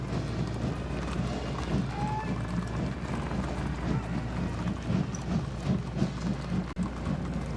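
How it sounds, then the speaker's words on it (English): Horses of the 1st Cavalry Division's Horse Cavalry Detachment from Fort Hood, Texas, parade in a ceremonial procession, their hooves clip-clopping in a steady rhythm beneath broad crowd and outdoor noise. "this equestrian unit is the 1st Cavalry Division's Horse Cavalry Detachment from Fort Hood, Texas"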